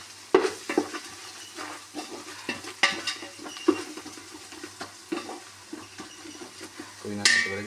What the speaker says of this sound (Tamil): புதினா போட்டு மறுபடியும் மிக்ஸ் பண்ணுறோம்.